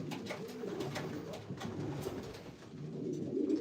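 Racing pigeons coo in a low, throaty murmur that rolls on continuously, several birds overlapping at moderate volume with faint background rustle.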